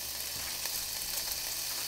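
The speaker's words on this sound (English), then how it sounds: "see how the bacon is sizzling? That means the pan's ready." Steady, bright sizzling of bacon chunks frying in a pan, a continuous crackling hiss with small pops, no voices.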